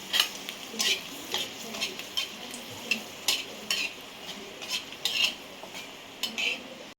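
A dry tarka of dal, ginger, tomato and coriander leaves frying in a pan, with repeated scraping stirs of a utensil against the pan every half second or so over a low sizzle.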